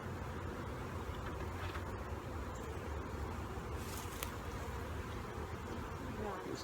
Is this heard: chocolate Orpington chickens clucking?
no